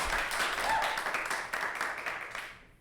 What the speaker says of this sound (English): Let's give both of them another round of applause.